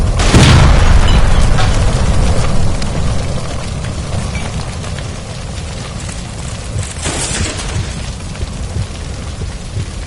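In the game LA Noire, a gas line explodes with a loud, close boom, followed by a long rolling rumble and crackling debris that slowly fades.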